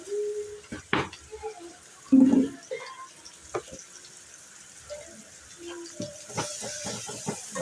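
A spoon stirs beetroot curry in a pan on the stove, making scattered scrapes and soft clatters against the pan with brief pauses between them. Faint background sounds accompany the stirring.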